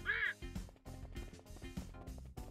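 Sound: ducks quacking in the video game Chicken Bomb

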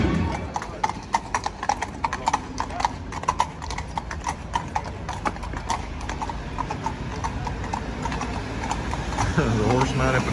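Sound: mounted police horses' hooves clip-clopping on street

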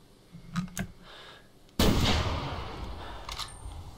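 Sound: rifle gunshot in video game theHunter

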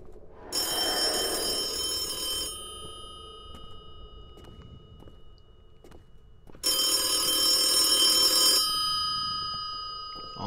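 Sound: telephone ringing in the video game Lost Alone Ultimate

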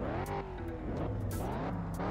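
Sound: Pontiac GTO muscle car accelerating in the video game Test Drive Unlimited

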